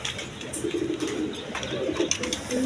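Soft, low coos of a pair of Mosholdom pigeons, one red, repeat in short bursts close by, over a faint background of rustling and distant chirps.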